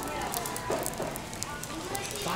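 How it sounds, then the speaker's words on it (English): Street food sizzling on a hot plate at a cheap Korean market stall, a steady broadband crackle and hiss running throughout, with voices and market bustle mixed in around it. "So they're just sizzling away on there."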